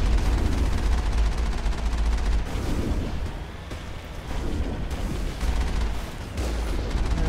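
Tank combat in the Mass Effect video game as the Mako fires: loud, dense bursts of gunfire and booming blasts follow one another continuously, with a brief dip in the middle and no speech.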